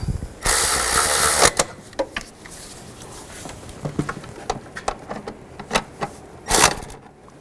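Quick ratchet clicks in short bursts while tightening valve cover bolts on a 2005-2015 Nissan Xterra, mixed with metallic handling clatter and a couple of louder rasping strokes up close.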